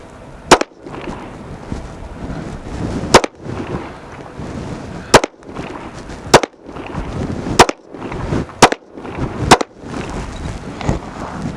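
Seven sharp, loud pistol shots from a Ruger Magpul RXM ring out at irregular intervals, each a bright crack over a steady outdoor background, fired close to the microphone.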